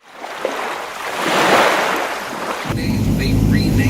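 An amphibious duck tour boat in Boston rolls from land into the water, with a broad rushing surge of splashing and turbulent water that builds and then settles into a steady low churning wash.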